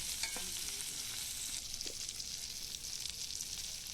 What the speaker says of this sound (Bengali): এরপর আমি দিয়ে দেবো টমেটো কুচি।